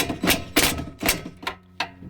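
A wrench tightens the oil drain plug on a Honda GX390 engine of a Simpson pressure washer, making a handful of sharp, close metallic clicks in quick succession.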